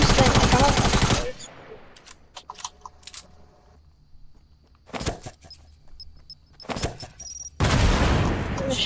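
Fortnite gunfire in rapid bursts: dense automatic fire at the start and end, with scattered single shots and short volleys in between over quieter game sounds.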